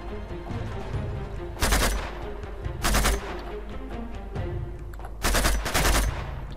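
Loud bursts of gunfire in Uncharted 2, two pairs of broadband blasts about a second apart over a steady background of game ambience, with no talking.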